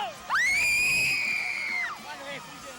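A single high, sustained scream of fans at a concert, loud and close, lasting over a second and rising then falling, with a few fainter shouts trailing after amid crowd noise.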